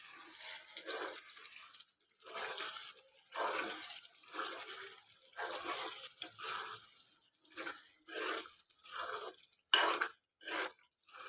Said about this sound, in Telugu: ఒకసారి మంచిగా మిక్స్ చేసుకుందాము.